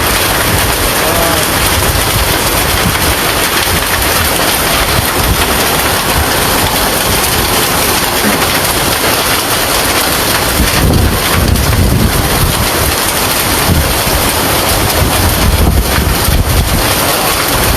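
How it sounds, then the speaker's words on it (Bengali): A hailstorm with heavy rain in Sylhet pours down as a loud, dense, continuous roar of rain and wind, with harder bursts of clattering toward the end. "শিলাবৃষ্টিগুলো দেখেন কত শিলাবৃষ্টি এখনও হইতেছে শিলাবৃষ্টি"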